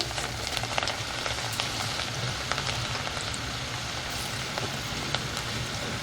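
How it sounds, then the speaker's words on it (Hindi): Chana dal frying in oil gives a dense, steady, close sizzle with a rain-like crackle, as a spoon stirs it now and then with faint scrapes. No one speaks. "इसको हम इस तरीके से फ्राई करेंगे। स्पून की मदद से हम इसको इस तरीके से हिलाएंगे।"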